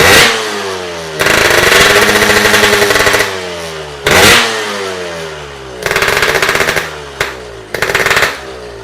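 A loud Yamaha RX-King road race motorcycle engine revs hard in several sharp bursts, rising and falling with crackling, rattling pops, close by and with no talking.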